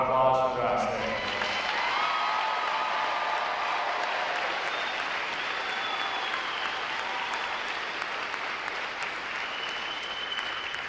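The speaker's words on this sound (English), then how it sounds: "About a round of applause for us." Sustained audience applause at a U.S. Navy Recruit Training Command graduation ceremony, a dense steady wash of many hands clapping that fills the space for about eleven seconds, with a voice briefly heard at the start.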